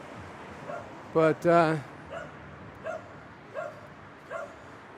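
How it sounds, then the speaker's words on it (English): A homeless street dog in Tbilisi lets out a couple of sharp yelping barks followed by several softer, spaced barks at moderate distance, over quiet outdoor background with a brief voice. "it's just a homeless dog"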